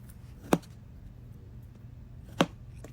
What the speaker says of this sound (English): So here I am chopping them up.